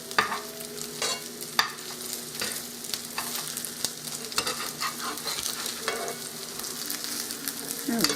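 Cornbread frying in a pan while pieces are flipped, a continuous crackling sizzle broken by sharp scrapes and clicks of the utensil against the pan, close and alone without talk.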